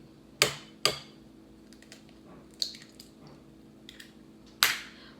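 An egg is tapped and cracked into milk for a pourable pizza batter. A few sharp, close clicks and knocks stand out against a quiet kitchen background.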